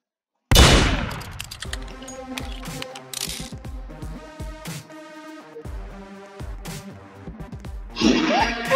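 Rapid gunfire in the Roblox game Murder Mystery 2, dense mechanical clattering bursts with harsh cracks throughout, loud and continuous, with no speech over it.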